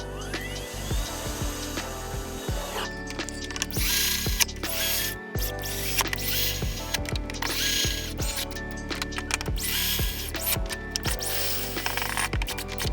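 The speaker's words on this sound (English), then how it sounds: "We got our handy dandy drill." A power drill whirs in repeated short bursts, winding up and down as it drives screws while assembling an Anycubic Kobra X 3D printer, close and loud with clicks between runs.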